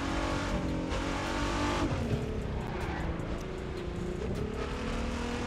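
A GTR car engine drones steadily in The Crew 2 racing game, a constant loud roar with shifting pitch and faint tire squeal, no voices over it.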